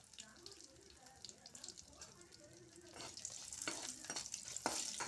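Ginger with pepper and cloves sautés in a pan for tomato chutney, a faint, soft sizzle with light stirring that grows a little louder and busier toward the end.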